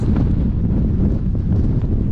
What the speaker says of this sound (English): I can see why they call it Windy Peak. Wind's quite strong.